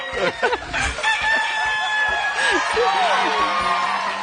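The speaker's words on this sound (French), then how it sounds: "c'est le poussin qui a chanté" A chick crowing sound effect plays on a French TV game show, a bright rooster-like call under busy studio noise and overlapping voices, with clucking squawks through the middle of the clip.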